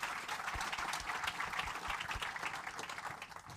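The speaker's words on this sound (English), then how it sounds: "Give them a big hand of applause." Audience at a symposium on academic AI spin-offs applauding the panelists, a fairly faint, steady spread of clapping from the room with no talk over it.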